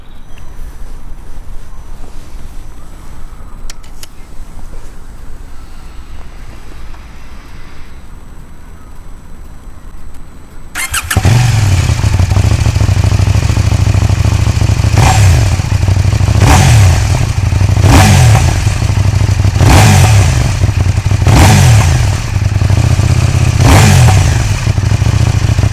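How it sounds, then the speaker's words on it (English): A KTM 790 Duke motorcycle, brand new with zero mileage, sits quiet before its engine cranks and fires, then settles into a loud, close idle broken by several short throttle blips. "Let's set up so I can start her up for you and you can hear her."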